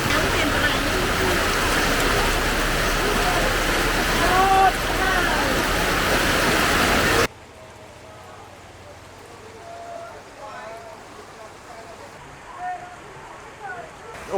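Heavy rain in Vietnam pours as a dense, loud, steady hiss for about seven seconds, then drops abruptly to a quieter, muffled downpour.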